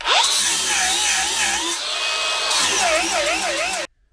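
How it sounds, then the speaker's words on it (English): A Bauer brushless angle grinder grinds under load, a loud high-pitched whine with a wavering pitch that dips and recovers as pressure changes, running continuously before stopping suddenly. "that was grinding on the Bauer, or on the Milwaukee"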